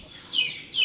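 Native chickens being fed in the morning give two short, bright clucking calls in quick succession, fairly close.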